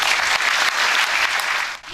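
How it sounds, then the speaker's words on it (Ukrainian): A hall ovation at a city council ceremony for a newly elected mayor, thick continuous clapping from a full room that stays loud and dense, dipping briefly near the end before swelling again. "щиро і тепло довготривалими оваціями зустрів зал Володимира Сабадаша"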